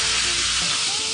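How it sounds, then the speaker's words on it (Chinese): Shrimp heads fry in hot oil in a wok, then boiling water is poured in, giving a loud close sizzle that shifts to a rushing, bubbling hiss partway through. "加入开水"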